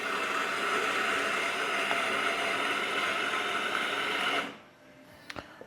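A Jura C9 coffee machine hums and hisses steadily for several seconds while brewing a cappuccino, then cuts off abruptly, followed by a few light clicks.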